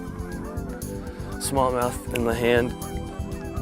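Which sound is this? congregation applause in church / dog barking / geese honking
geese honking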